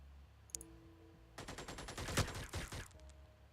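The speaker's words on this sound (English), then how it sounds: "Now we get to see the beauty of the machine gun." Rapid machine gun fire in the video game Xenonauts, a dense loud burst of automatic shots lasting about a second and a half after a brief click, with no talking.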